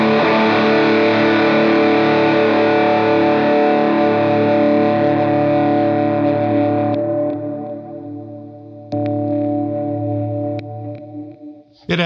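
Distorted electric guitar through a Rat-style distortion tone, ringing out loud and sustained, then a fresh strum near the end that fades with a brief final hit; no talking.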